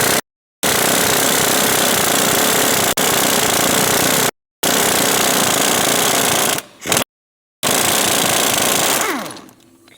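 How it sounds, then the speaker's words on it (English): A power tool with a 21mm socket rattles out a bolt on a Jeep Grand Cherokee with the 3.6L Pentastar engine. It sounds as loud, rapid hammering bursts with short silent gaps between them, then winds down at the end. "Just take a 21mm socket and run it."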